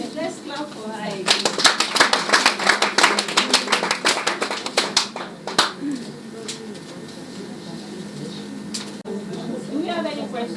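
Workshop audience at a session on making reusable pads claps in a burst of rapid applause lasting about four seconds, followed by a quieter room where people begin talking.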